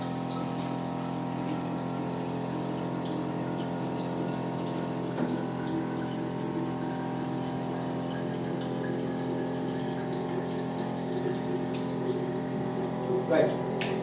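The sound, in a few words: water flowing through Kangen water machine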